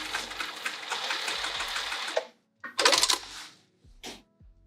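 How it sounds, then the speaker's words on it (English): A sewing machine stitches a single layer on a luggage sleeve for a bag, running in a steady buzzing burst for about two seconds, then stopping and giving two shorter starts with small clicks between them. "Make sure I'm just sewing the one layer still."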